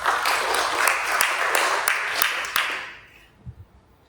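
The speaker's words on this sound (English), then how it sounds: "Let's just clap to all the donors who came." An audience claps for event donors in a steady wash of applause lasting a few seconds, then fades quickly to near silence.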